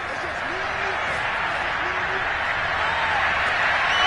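Steady crowd applause and cheering in the Madden 22 football video game fill the whole stretch, a dense even roar with a faint voice briefly rising through it.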